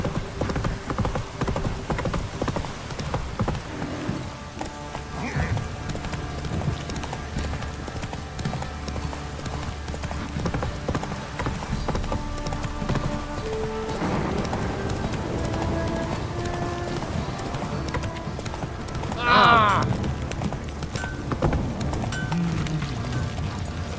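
Roach the horse from The Witcher 3 gallops steadily in rhythmic hoofbeats against a game soundscape, with a brief whinny-like flourish near the end and a voice speaking quietly at times.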